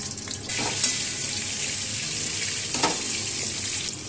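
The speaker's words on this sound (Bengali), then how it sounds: "এবারে ওর মধ্যে আমি কেটে রাখা ওলগুলো ছেড়ে দেব।" Cut pieces of elephant foot yam hit hot oil in a pan and set off a loud, close, continuous frying sizzle that holds steady throughout, with no talking.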